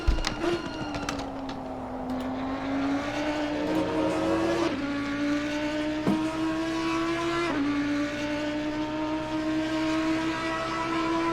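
An on-board race car engine during a lap at Bathurst in Assetto Corsa Competizione drones loudly and continuously, pitch climbing through the revs with sharp gear-shift breaks and a brief tire squeal, without talk.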